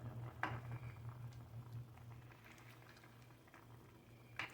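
A pot of bangus sinigang broth with taro bubbles at a steady simmer, a soft continuous patter of boiling close by, with faint occasional clinks of a pot and utensils and no talking.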